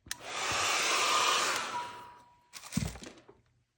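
A hair dryer blows steadily for about two seconds while drying acrylic paint in a mixed media abstract artwork, then cuts off, followed by a brief clatter and thunk.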